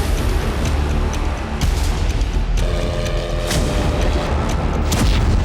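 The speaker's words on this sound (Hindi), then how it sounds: "कीव पर 4 क्रूज मिसाइल से हमले हुए, 3 एरोब्लास्टिक मिसाइल से भी धमाके हुए" Loud, rumbling blasts from cruise missile explosions striking Kyiv, with sharp booms breaking through a dense, continuous roar.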